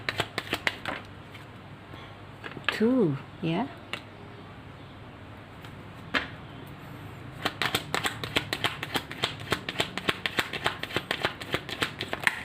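A deck of Major Arcana tarot cards is shuffled in a quiet room, first a few scattered riffles and then a long run of rapid crisp card flicks, with a brief spoken word early on.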